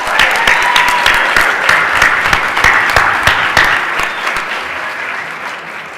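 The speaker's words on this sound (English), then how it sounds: "So, a huge thank you and a huge applause for Centers Healthcare for creating this." Loud, close applause from a gala audience at the 2017 Centers Healthcare Patient Advocacy Award event, many hands clapping densely with prominent sharp claps, slowly tapering toward the end.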